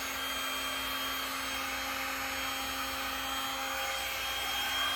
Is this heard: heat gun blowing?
yes